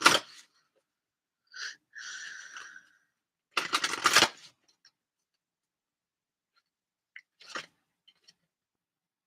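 Elemental oracle cards are handled and shuffled in short bursts, with a few quick riffles and rustles separated by silences, close and fairly quiet.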